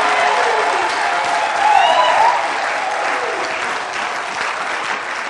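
A church congregation at a French-language service applauding: sustained, dense clapping that swells briefly midway and then continues steadily.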